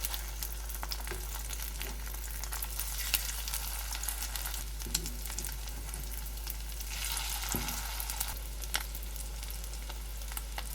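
Perilla leaf pancake batter sizzles and crackles steadily in a hot pan, a soft continuous frying hiss with occasional pops and light clinks, no talking.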